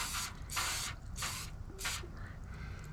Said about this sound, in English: give that a little spray of olive oil